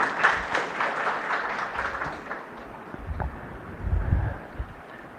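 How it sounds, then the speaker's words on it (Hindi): Audience at an award ceremony held at Kamla Nehru College, Nagpur, claps in a moderate burst that thins out and fades, with some low rumble and rustling toward the end; no talking over it. "मैं अपने पदाधिकारियों से सबसे अनुरोध करूंगा कि उनके लिए एक जोरदार ताली का बजाएं।"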